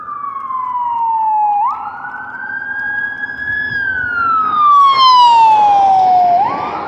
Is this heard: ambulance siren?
yes